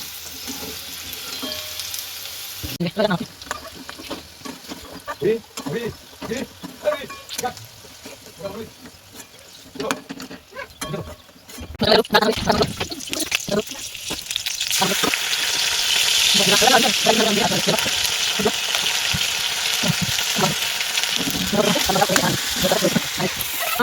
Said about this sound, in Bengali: বড়া ভাজা নামিয়ে দিল